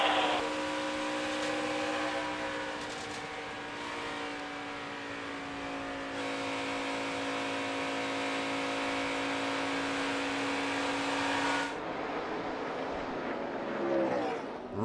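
NASCAR Gander Outdoors Truck Series pickups race flat out around the Texas oval in the Vankor 350, with a loud, steady engine drone holding a sustained high pitch for about twelve seconds before shifting and fading as the trucks pass, with faint crowd or commentary underneath.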